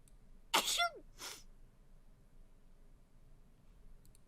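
A single quick cartoonish sneeze from the Neen Sneeze emote on a Twitch stream, one sharp burst followed by a softer trailing puff, then quiet background hiss.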